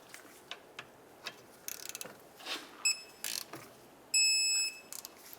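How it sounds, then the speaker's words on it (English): Scattered mechanical clicks come from a torque wrench tightening a brake caliper slider pin on a 2007-2010 Chrysler Sebring rear hub. A few short electronic beeps are heard, and the whole sound is fairly quiet and close. "We'll tighten it up and torque it to 32 foot-pounds."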